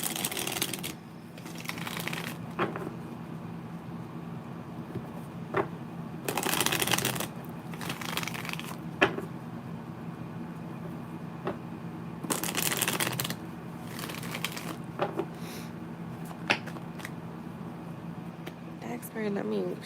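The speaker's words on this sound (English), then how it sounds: "let me shuffle." Tarot cards are shuffled in several bursts of crisp riffling, separated by quieter stretches with soft handling noises and a low background hum.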